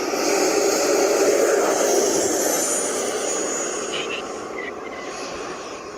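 A 90mm ducted-fan RC model F-16 V2 jet flies past with a loud broadband whoosh that fades gradually as it moves away, with no talking.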